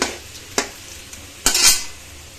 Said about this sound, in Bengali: বেশ লাল লাল করে আলুটা ভাজছি।